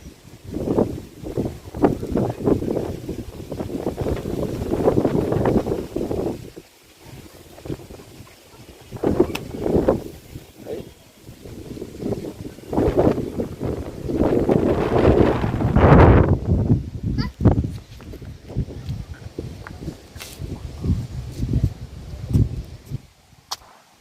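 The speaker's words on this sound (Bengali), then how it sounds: "হাওয়ার দমকা, হাওয়াটা মারাত্মক আছে।" Strong, gusty wind ahead of Cyclone Remal roars and buffets the microphone in long surges, rising and easing, with trees tossing nearby and no voices.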